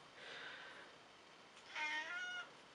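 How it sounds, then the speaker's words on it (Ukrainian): A cat arriving gives two meows, the first soft and the second louder and more insistent, heard nearby against quiet room noise with no talking. "Це кіт прийшов."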